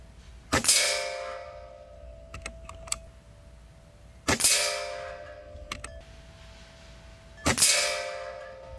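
Three sharp cracks from a regulated Air Arms S510 XS Ultimate Sporter .22 PCP air rifle, each followed by a short metallic ring and faint clicks of the action, spaced a few seconds apart with no talk.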